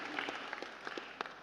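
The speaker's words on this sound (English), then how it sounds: "The ladies are clapping" Women in a church congregation clapping during a sermon by the prophet Emmanuel Makandiwa, soft, fairly distant applause with a few sharper individual claps standing out over a low, murmuring crowd.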